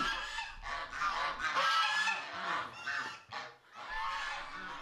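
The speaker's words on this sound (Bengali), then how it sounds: "ঘর ভর্তি রাজহাঁস কেন?" A flock of geese honk loudly and continuously, overlapping calls filling the space with a dense, noisy clamor.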